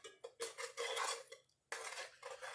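A spoon mixing mac and cheese in a pot, bursts of scraping and clattering against the metal with a short pause before the stirring resumes, close and fairly quiet, no speech.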